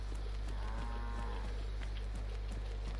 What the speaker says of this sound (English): Yo, hello cow.